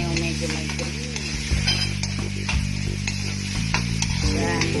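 Tomato going into a hot frying pan with oil, a continuous close sizzle with stirring scrapes and light clinks, plus a steady mechanical hum underneath.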